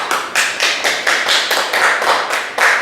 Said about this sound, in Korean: 동의하시는 분과 박수 한번 주시고